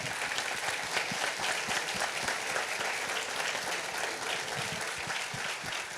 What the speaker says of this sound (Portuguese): Vou pedir uma salva de palmas antes de eu seguir.